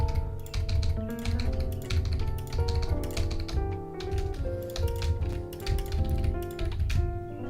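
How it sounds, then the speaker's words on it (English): Rapid clattering keypresses on a gaming keyboard run continuously at close range, dense and even throughout, layered over background game music. "Okay, I knew this keyboard was double clicking."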